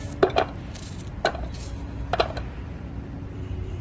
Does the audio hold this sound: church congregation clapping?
no